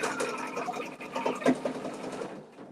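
An embroidery machine stitches an in-the-hoop stuffie, its needle chattering rapidly in a steady, close mechanical run that winds down toward the end.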